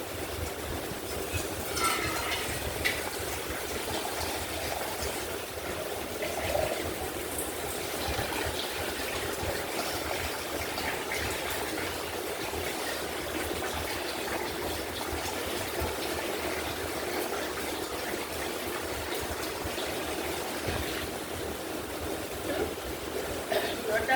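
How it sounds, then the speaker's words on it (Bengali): Water pours into a pot in a steady, continuous trickling rush for a fish curry gravy of koi fish with cauliflower and potato, sustained at moderate loudness close by. "এখন আমি ঝোলের জন্য জলটা নিয়ে নেব, বেশি করে ঝোল নেব।"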